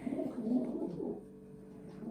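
A young pigeon cooing up close, soft low throaty coos in a short run against a quiet background.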